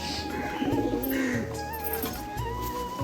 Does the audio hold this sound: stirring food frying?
no